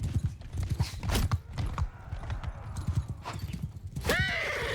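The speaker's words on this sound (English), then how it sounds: "They're riding around with their horse archers, and they're just really wreaking havoc on me." Horse archers' mounts gallop in Mount & Blade II: Bannerlord, with close, heavy hoofbeats pounding in a fast rhythm and a horse's whinny rising near the end, amid battle clatter.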